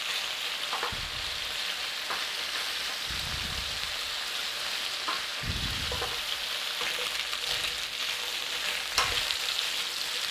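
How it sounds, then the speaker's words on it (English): Minced lamb browning in a pan for a Guinness shepherd's pie, a dense close sizzle with rain-like crackle throughout and several low scraping thumps of stirring spread across it, no voices. "Okay, we got a nice bit of browning on there, look."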